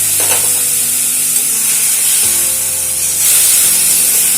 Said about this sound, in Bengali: এবারে এর মধ্যে ভেজে রাখা মাছগুলো দিয়ে দিচ্ছি